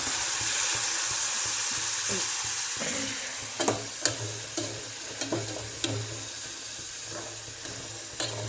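Onion frying in oil for a soaked yellow pea usal, with a steady close sizzle. A few sharp clinks of stirring break through partway.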